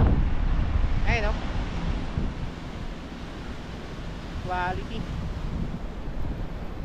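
Strong sea wind at Patapat Bridge in Ilocos Norte roars and buffets the microphone in a loud, constant rush, with a brief spoken word and faint tonal calls rising through it.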